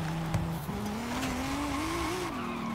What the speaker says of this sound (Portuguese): Joga no drift aqui